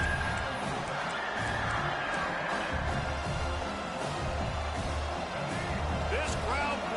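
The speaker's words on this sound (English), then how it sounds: "This crowd bringing the energy and noise early." A college football stadium crowd at a game against South Carolina keeps up a constant loud roar of noise, with a voice talking over the din throughout.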